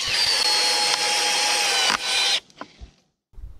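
A Makita DDF485 cordless drill on first speed drives a black 4.2 mm by 90 mm screw fully into wood, a loud steady whine for about two seconds, then a brief strained burst before stopping, with faint clicks after.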